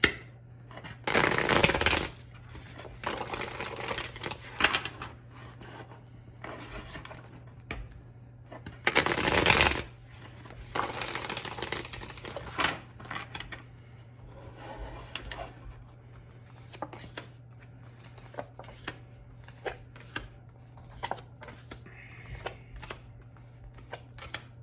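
Tarot cards are shuffled in two long riffling bursts, followed by scattered soft taps and flicks of cards being handled and laid down.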